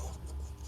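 Pen writing out a Class 12 maths solution on onto-function problems, a steady faint scratching that runs continuously through the short moment with no talk over it.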